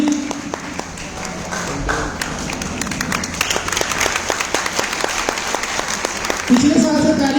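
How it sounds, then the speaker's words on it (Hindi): Seminar audience clapping to welcome guests onto the stage, scattered sharp claps that build into steadier applause, with voices talking over and around them. "तालियों से स्वागत होता है"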